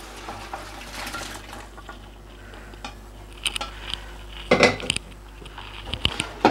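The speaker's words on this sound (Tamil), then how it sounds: "இப்போ இதில் வந்து நம்ம வேக வச்சு எடுத்து வச்சுருக்கிற மட்டன் அந்த தண்ணியோடு சேர்த்து இதில் இப்போ ஆட் பண்ணிடலாம்." Boiled mutton and its cooking water go into a biryani pot, with metal clinks and scrapes of a ladle against the vessel and a brief splash of liquid, growing louder toward the end.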